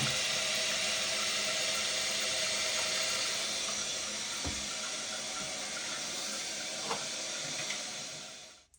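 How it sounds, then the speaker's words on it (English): A newly installed toilet tank fills with water from the supply valve, a steady broadband hiss and rushing flow close by, continuous for several seconds before tapering off as the fill stops. "All right, so the water level filled in the tank."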